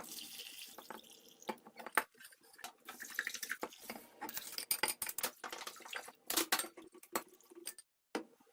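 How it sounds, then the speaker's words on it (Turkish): Drinking water is poured over mixed vegetables in a pickle jar, giving uneven splashing and trickling bursts with brief pauses, close and fairly quiet, with no talk. "Turşuma hep içme suyu ekledim."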